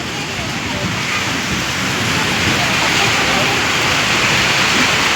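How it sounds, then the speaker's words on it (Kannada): Heavy rain pours down in a steady, loud, dense roar throughout, with no distinct thunderclap standing out. "ಭಾರೀ ಮಳೆ, ಗುಡುಗು ಸಹಿತ ವೀಕ್ಷಕರೇ."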